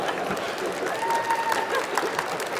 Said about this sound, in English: Please don't hold your applause.